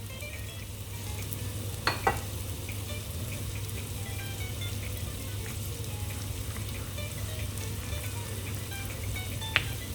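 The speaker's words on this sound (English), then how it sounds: "our onions are frying away" Steady sizzling of onions frying in a pan, a continuous crackle with a low hum beneath and a few faint clinks.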